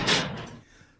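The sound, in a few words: cell door opening or closing in radio play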